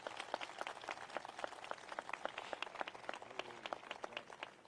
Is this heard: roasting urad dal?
no